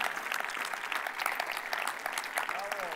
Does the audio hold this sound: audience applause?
yes